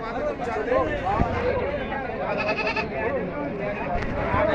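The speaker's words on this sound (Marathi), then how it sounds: "बरबरी जातीची शेळी." Barbari goats bleat repeatedly at a busy goat market in Maharashtra, wavering cries close by over a constant hubbub of people talking.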